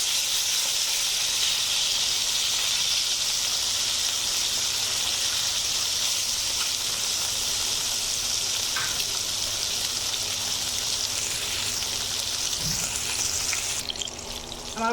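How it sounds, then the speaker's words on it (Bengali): Tilapia fish pieces frying in hot oil, a steady, loud, dense sizzle and hiss that runs unbroken, with a few faint clinks of the fish being turned near the end. "এখন আমি একটু উল্টে দিচ্ছি। মাছগুলো লালচে করে ভেজে নেব।"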